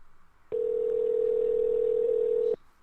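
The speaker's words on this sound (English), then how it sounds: "Yeah, the line's ringing." A single steady electronic ringing tone sounds for about two seconds on a phone line during a radio broadcast call, then stops.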